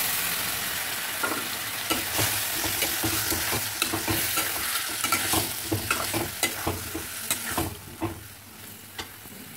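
Potato curry frying in a pan after a splash of water is added, with a steady sizzle under repeated scraping stirs of a spoon, close and moderately loud, no voices.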